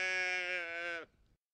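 A single drawn-out sheep bleat, loud and close, with a wavering tone that cuts off abruptly after about a second.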